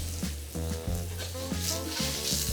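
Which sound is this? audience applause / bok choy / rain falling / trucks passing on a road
bok choy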